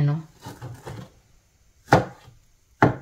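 A knife cuts through a pork chop near the bone on a board, several dull thudding chops, the last two sharp and well spaced, close and fairly loud with short pauses between.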